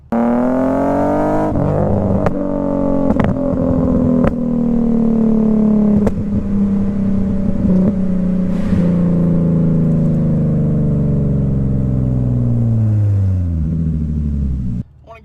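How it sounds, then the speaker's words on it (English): An Infiniti Q50 on a flame-map exhaust tune revs up and down repeatedly, its engine note climbing and falling while sharp crackles and pops snap through the exhaust, close and loud with no talking. "what's going on with the flame map, the Crackles and Pops, and all that stuff"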